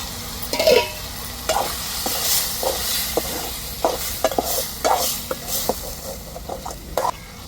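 Prawn curry sizzling and bubbling in a pan with repeated stirring scrapes at an irregular rhythm, steady and close, with no talking.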